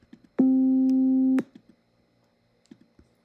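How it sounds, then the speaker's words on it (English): A single steady synthesizer tone holds for about a second, with faint clicks and taps around it in an otherwise quiet space. "if we want to create a sound using the synthesizer, we can select the synthesizer button here"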